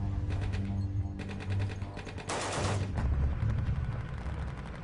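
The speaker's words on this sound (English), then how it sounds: "the Branch Davidians respond with a barrage of gunfire." A barrage of gunfire from the Branch Davidian compound during the FBI's CS gas operation at Waco: dense, rapid bursts of shots that blur into a rolling roar, fairly faint and distant.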